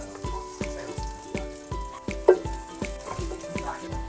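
Onions and native garlic fry in a pan for beef shank sinigang, a soft sizzle broken by regular taps as the mix is stirred.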